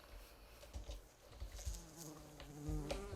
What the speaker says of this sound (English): I found some Growthcraft bees, you can hear it.